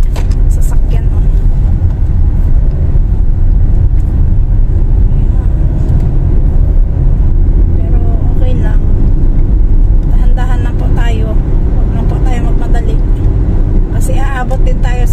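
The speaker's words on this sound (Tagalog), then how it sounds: "Ang daming mga sasakyan, oh." Heavy road traffic with many cars streaming past rumbles loudly and continuously near a roadside, a dense steady engine and tyre roar, with a few faint voices and higher noises breaking through later.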